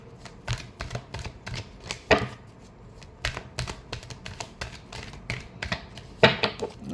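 Tarot cards shuffled by hand in a rapid run of crisp, papery riffles and taps, close and alone with no voices.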